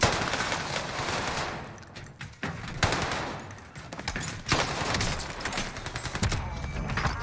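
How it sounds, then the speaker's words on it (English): Rapid automatic gunfire in Warzone as a magazine is emptied into a downed body: dense, continuous bursts of close, loud shots with brief pauses between strings, and no talk over it. "I was just emptying my mag into his corpse"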